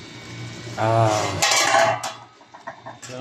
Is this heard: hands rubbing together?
no